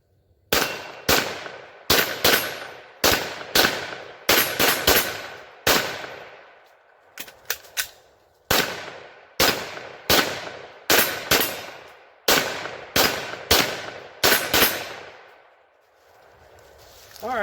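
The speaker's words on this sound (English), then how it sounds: "we're going to get some rounds in this gun, and we're going to go back and hit the pistol course" A Glock 34 pistol on an outdoor pistol course fires about twenty sharp, loud shots in quick clusters with brief pauses between strings, each crack followed by a short decay.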